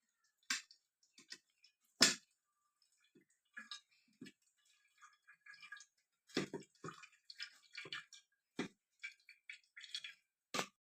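Cluster beans are squeezed by hand with the help of a metal pot to press out water, giving scattered soft squishes, drips and small splashes with quiet gaps between them.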